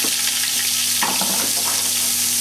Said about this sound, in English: We have our diced onion, we have our pureed garlic. They're going into the pan. We want to sweat them off for a minute or two.